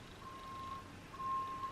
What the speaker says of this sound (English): there's a lorry reversing outside.